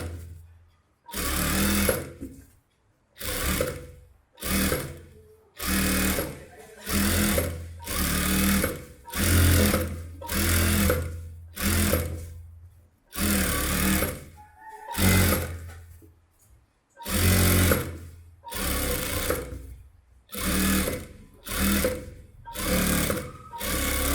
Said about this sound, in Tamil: இப்போ இதில் ஓரத்தில் ஒரு எஜ்ஜு தையல் போட்டுக்கோங்க